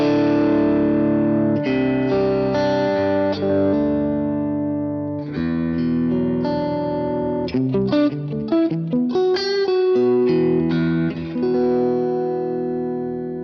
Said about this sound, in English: with the natural sounding amp, you can get those sort of clean on the verge of breakup sort of tones out of it